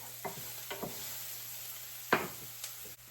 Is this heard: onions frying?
yes